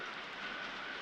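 Rain falling at a construction site, a soft continuous hiss of drops without voices, steady and fairly faint over a short stretch.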